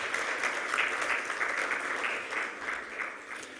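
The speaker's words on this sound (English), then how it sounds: "give him a round of applause to join us on the stage." Audience applause at a business executive breakfast meeting as a speaker joins the stage: steady, even clapping from a large room, continuous and fairly distant.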